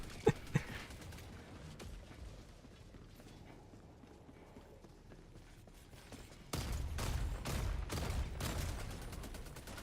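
Rapid bursts of bolt pistol fire from Helldivers 2 ring out close and loud in the closing seconds, following quieter mechanical handling and a couple of sharp clicks at the start.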